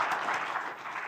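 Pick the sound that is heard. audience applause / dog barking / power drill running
audience applause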